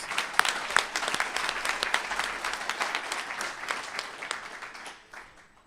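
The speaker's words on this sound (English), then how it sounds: "please give her a huge round of applause" Audience applause for a graduating resident at an internal medicine residency graduation ceremony, a steady dense clapping from a crowd that carries on for several seconds, then thins and fades out.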